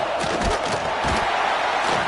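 The home crowd roars at a Texas A&M football game, a broad and loud sustained cheer with scattered shouts and thumps, heard from within the stadium.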